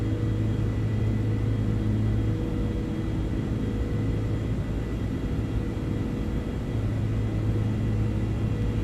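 Airbus A330-200 engines climbing in a flight simulator, a steady heavy jet rumble with a low drone that holds throughout, no talking.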